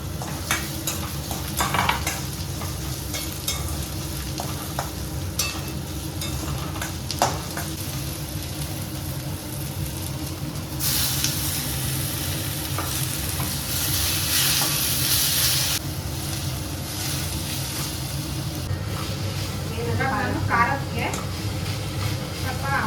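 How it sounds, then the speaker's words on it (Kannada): Coriander leaves, mint and tomato fry in a pan with a constant sizzle and repeated spoon scrapes and clinks from stirring, while people talk over the cooking throughout. "ಕೊತ್ತಂಬರಿ ಸೊಪ್ಪು ಪುದೀನ ಮತ್ತು ಟೊಮೊಟೊ ಇದನ್ನಿಷ್ಟನ್ನು ಫ್ರೈ ಮಾಡ್ಕೋತೀನಿ ಇವಾಗ ನಾನು"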